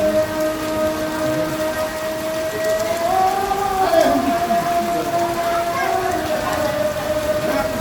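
Steady rain falls outside a window during the first thunderstorm of the year, a dense continuous hiss with a soft low rumble of thunder swelling midway, while a faint tonal hum runs underneath.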